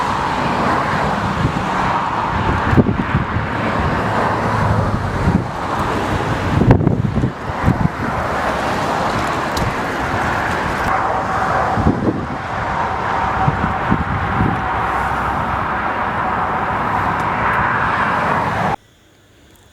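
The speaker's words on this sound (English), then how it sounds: "how dangerous it is to land aircraft when the wind is blowing across the runway" Strong wind blowing during a crosswind aircraft landing at a runway, a loud continuous roar and buffeting rush with gusty swells that cuts off abruptly near the end.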